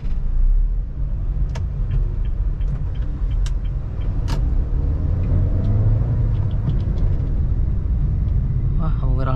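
Honda Brio car pulling away and accelerating from a crawl in first gear at a traffic light in Madiun, Indonesia; steady low engine and road rumble fills the cabin throughout.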